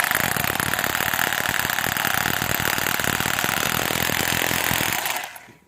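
Dnipro-M RH-12 rotary hammer drilling at full power, a loud, steady rapid hammering rattle running for about five seconds before winding down.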